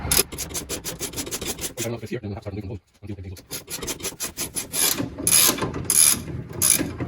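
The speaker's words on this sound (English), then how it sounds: "So as I'm undoing the nut, I'm paying attention to the rod to make sure that it's not spinning." Rapid ratcheting clicks from loosening a nut on a 1975 Triumph TR6 front suspension, in close bursts with a brief pause, then more ratchet strokes and metallic scraping; no one speaks.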